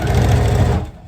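A sewing machine stitches through bulky pleated fabric, running loud and close with a steady whirring hum before slowing and stopping after about a second.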